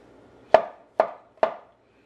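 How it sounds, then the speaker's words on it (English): Three crisp knife chops through boiled green bananas on a cutting board, evenly spaced about half a second apart, close and fairly loud with quiet in between. "We're just gonna slice them up into small pieces, maybe about 1/4 inch."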